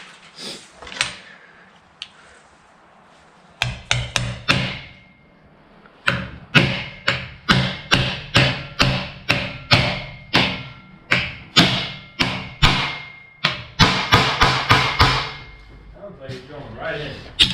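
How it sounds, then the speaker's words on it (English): A bearing being hammered in with a tool on a 1967 Ford F100: a long run of sharp, loud metallic strikes in a steady rhythm, about twenty blows after a few opening taps. "this tool makes it really nice. Just stuff just hammers right in."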